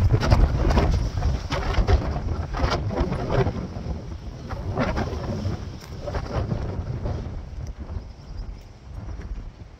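Strong wind buffets the microphone in heavy, continuous gusts, a loud low roar with rattling thumps throughout.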